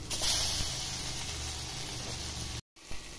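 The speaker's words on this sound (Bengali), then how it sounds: "একটু ভেজে দিচ্ছি।" Semolina snacks frying in a pan with a little oil, a steady soft sizzling hiss close by that cuts out briefly near the end, no talking.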